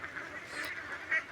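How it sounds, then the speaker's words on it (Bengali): Many ducks kept in a confined duck farm, a continuous low din of honking and quacking from the flock, with one louder call near the end. "এই যে হাঁসের যে মেলা দেখতেছেন"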